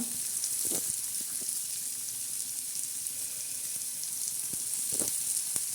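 Onion frying in a pan until reddish for a dried bombil dish, a steady soft sizzle with occasional faint stirring clinks, close and continuous.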